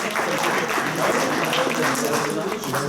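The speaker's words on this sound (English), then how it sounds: "please give a round of applause to our guests" An audience at a Black History Month lecture event at Cardiff's Millennium Centre applauds its guest speakers, a continuous, loud roar of clapping mixed with crowd voices and cheering throughout.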